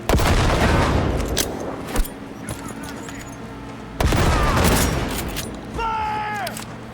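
Grenade blasts and gunfire in the video game Cyberpunk 2077, two heavy booms a couple of seconds apart over a dense, loud battle roar, with a voice speaking briefly.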